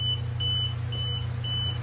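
A tire pressure monitor beeping while wheel lug nuts are being fitted: four short, evenly spaced high-pitched beeps over a steady low hum, with no talking.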